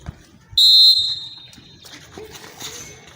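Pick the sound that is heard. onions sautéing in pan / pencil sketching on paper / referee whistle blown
referee whistle blown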